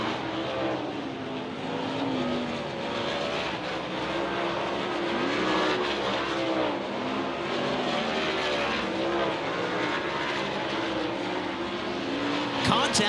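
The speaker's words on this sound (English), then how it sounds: "Corey Eliason, and Hunter Schoenberg as the green flag comes back out in this second Dirt Draft hot lap session." Race cars lapping a dirt track during a hot lap session at Lucas Oil Speedway, several engines roaring continuously at mid distance, their pitch rising and falling in sweeping passes as cars go by.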